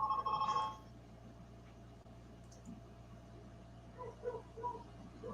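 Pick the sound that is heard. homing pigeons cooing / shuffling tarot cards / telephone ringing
telephone ringing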